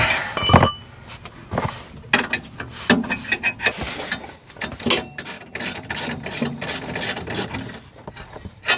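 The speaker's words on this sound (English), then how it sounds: "take a 12mm wrench or a ratchet, and we're going to take out this pass-through bolt" A 12mm ratchet removes a pass-through bolt on a 2016+ Honda Civic Sport Hatch rear sway bar. Repeated rapid pawl clicks come in close bursts, with metallic clinks between strokes.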